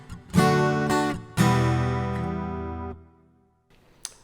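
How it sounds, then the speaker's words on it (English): Acoustic guitar tone from an Axe-Fx II processor with studio reverb plays two strummed chords, each ringing out with a lingering reverberant tail, followed by a faint pick tap at the end. "And with the reverb, it sounds like this."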